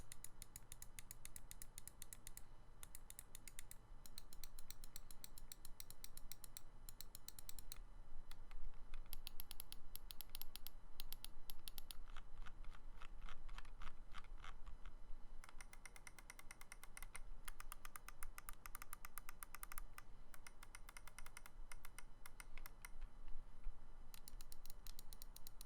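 Quiet, rapid clicks from a Cooler Master MM711 gaming mouse rattle on in bursts and steady runs, crisp and mechanical, with no voices over them.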